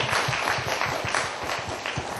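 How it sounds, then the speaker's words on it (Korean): Audience at a Korean book talk event clapping, a steady, fairly quiet patter of many hands with a loose rhythmic pulse lasting the whole moment. "박수 한번 주실까요?"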